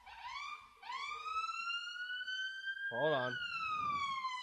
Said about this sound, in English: we just integrated the ambulance noise that you probably just heard